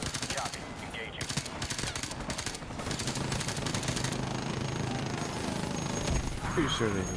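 Rapid automatic gunfire bursts from a military shooter game mission, with loud bursts at close range and speech over the shooting.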